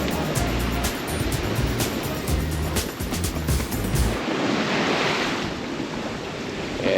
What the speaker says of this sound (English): We got a little bit of swell and wind waves, but it's really nice,